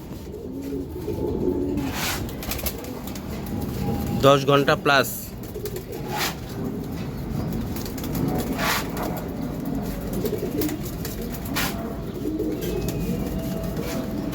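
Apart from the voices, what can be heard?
pigeons cooing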